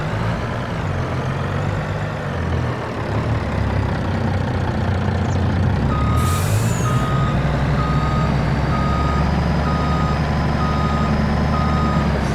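A large truck idles with a low, steady engine rumble while a reversing alarm beeps in a slow, regular rhythm, in the video game Farming Simulator 25.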